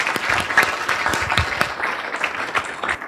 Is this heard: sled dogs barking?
no